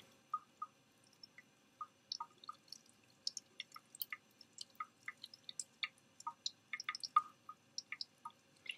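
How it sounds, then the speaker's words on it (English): Water rinses excess methylene blue stain off a microscope slide in a lab, heard as a quick run of small, close drips and splashes with no voices. "Now we are going to rinse it till the water runs clear."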